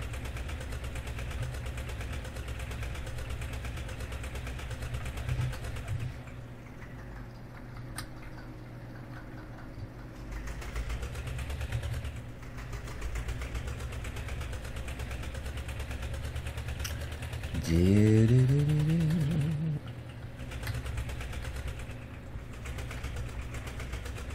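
Tractor engine in Farming Simulator 17, a steady low mechanical drone running throughout with a faint ticking texture, swelling briefly with a rising, wavering tone partway through before settling back to an even hum.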